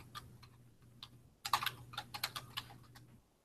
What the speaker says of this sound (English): I'm going to type in my link